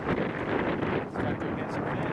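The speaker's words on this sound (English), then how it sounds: "It's 20-mile-an-hour wind with 30-mile-an-hour gusts." Strong wind gusting at about 20 to 30 miles per hour buffets the microphone on a fishing boat, a constant loud roar with rustling surges.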